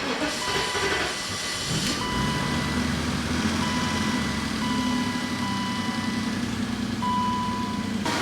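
A BMW 735iL, cold after sitting unused for years, idles just after starting with a steady, continuous rumble, an airy hiss and a faint whine, and no one talks.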